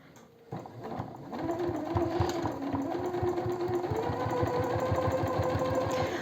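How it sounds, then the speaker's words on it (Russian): A sewing machine stitching an ordinary straight seam through two layers of eco-leather for a cosmetic bag, starting after a brief pause and then running in a steady, fast mechanical rhythm, close and alone. "А здесь сейчас я прокладываю строчку обычную."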